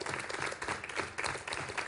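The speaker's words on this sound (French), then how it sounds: "On peut applaudir ces magnifiques acrobates de France Artistes." A theater audience applauds a pair of acrobats, a dense, fairly distant patter of many hands clapping together without pause.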